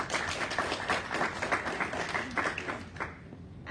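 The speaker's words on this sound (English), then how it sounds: "So let's just give her a round of applause, okay?" A round of applause from the audience at a small business pitch gathering, brisk, even clapping that carries for a few seconds and then fades out.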